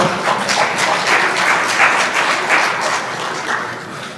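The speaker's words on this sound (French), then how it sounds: "Sous vos applaudissements, s'il vous plaît." Sustained applause from an audience at an end-of-year ceremony for foreign students, dense and steady throughout with no speech over it.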